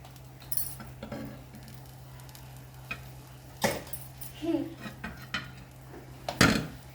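A bread omelette in a pan gives quiet scattered clinks and scrapes of a utensil against the pan over a faint low hum, with a few sharper knocks as it is flipped.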